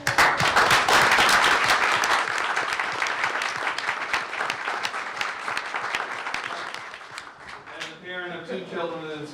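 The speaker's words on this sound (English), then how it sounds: "we certainly want to applaud the parents" A school board meeting audience applauds parents in a loud burst of clapping that gradually thins out, and a speaking voice comes in near the end.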